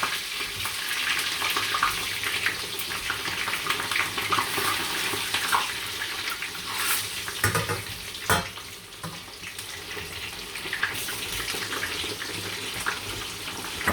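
Eggplant slices fry in hot oil with a continuous crackling sizzle, close and fairly steady, with a few sharper spits and pops scattered through.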